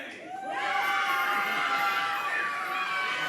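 A wrestling match crowd cheers and shouts together, a dense rising roar of many voices that swells after a quiet start and holds loud throughout.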